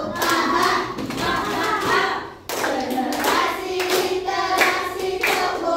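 Children clapping their hands together in rhythm during a classroom chant, steady patterned claps mixed with singing voices, loud and close with a brief pause partway through.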